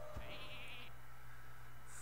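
A Hearthstone Polymorph spell transforms a minion into a sheep, giving a clear bleating baa that wavers for under a second over a steady low game hum, followed by a faint chime.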